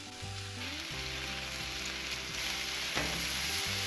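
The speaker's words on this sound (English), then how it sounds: "Probably some bacon. Down some bacon." Bacon sizzles in a pan at a cabin cookout, a steady close hiss and crackle that runs without a break, with low hum underneath and no talk.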